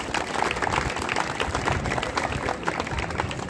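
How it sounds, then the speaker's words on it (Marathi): Crowd applauding at a Buddha Purnima celebration held at the Karla Caves, with dense, steady clapping that carries on evenly throughout. "त्यांचं टाळ्या वाजवून स्वागत करावं अशी मी विनंती या ठिकाणी करतो"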